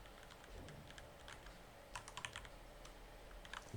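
Quiet keystrokes come from a computer keyboard while text is entered in AutoCAD. The soft, irregular clicks form short bursts with brief pauses, close and faint against a low background hum, with no speech.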